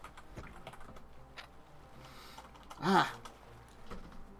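Soft, rapid clicks of fingers typing on a computer keyboard run through a quiet room, broken midway by a brief audible sigh.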